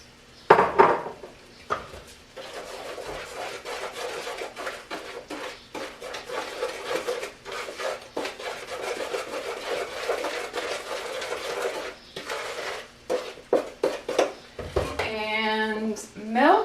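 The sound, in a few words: mixing butterscotch krimpet batter together in a bowl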